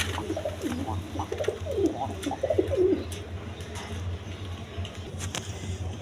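Pigeons coo softly at a pigeon farm, a few nearby birds giving low, rolling calls over a quiet, lightly noisy backdrop, with faint chirps and occasional clicks.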